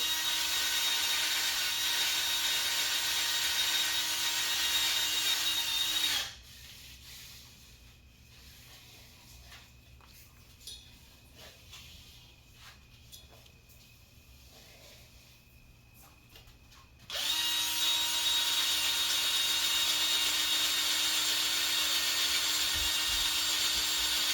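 A small drill works on a Chevy OBS shortbed truck, a steady broadband grinding whir in two loud stretches with a quieter pause between them, no talk.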